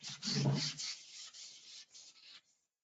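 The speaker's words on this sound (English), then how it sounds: "I'm using here 240 grit. So go ahead and do a light sanding between coats." Sandpaper of 240 grit rubs lightly over a hard-cured coating between coats, a few short close scratchy strokes that fade out after about two seconds.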